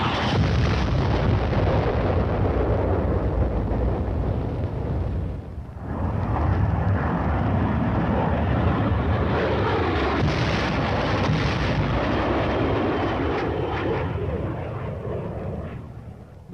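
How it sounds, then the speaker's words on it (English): Aircraft engines roar overhead as napalm drops on enemy positions, mixed with heavy rumbling blasts and fiery bursts in a dense, continuous din from an old Cold War military film. "The deadly napalm is dropped in a veritable blanket of destruction over the enemy's position"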